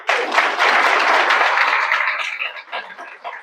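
An audience at a spiritual talk bursts into dense clapping that holds steady, then thins into scattered claps and fades out.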